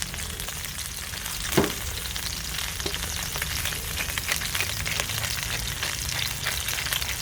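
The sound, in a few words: salmon fillets frying skin side down in a pan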